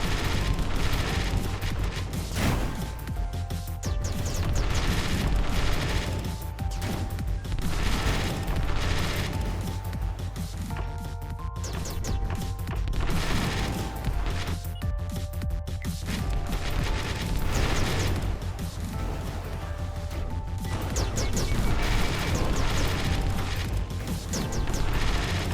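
Missiles cluster and detonate in the shooter game Starwave Defender, a long run of rapid blasts, rumbling booms and mechanical firing that stay loud and dense throughout, with occasional sharper bursts and no voices.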